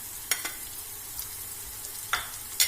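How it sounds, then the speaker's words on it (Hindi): Garlic and ginger fry in a pan for a Lahori white chickpea curry, a soft steady sizzle broken by a few brief scraping stirs of a spoon, close and moderately quiet with no talking. "जब तक लहसुन अदरक अच्छी तरह भून नहीं जाता, भूनते रहें"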